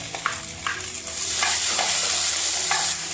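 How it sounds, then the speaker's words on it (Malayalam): Drumstick pieces being sautéed and stirred in a pan while making sambar, a steady sizzle with a few sharp scrapes of the spoon against the pan, close and alone. "അതിലേക്ക് നമുക്ക് മുരിങ്ങയ്ക്ക ഇട്ട് കൊടുക്കാം"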